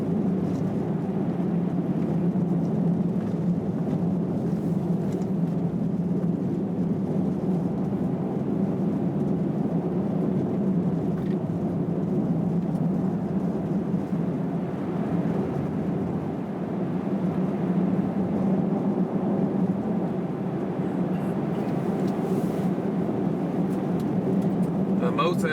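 Inside a Kia e-Niro electric car driving at -34°C, a steady low road rumble and tyre roar runs throughout, fairly loud and constant, with no voices and no engine sound over it.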